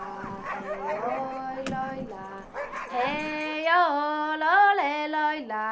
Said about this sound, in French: Ce sont des chiens qui adorent courir, qui courent tous les jours, même par des températures très froides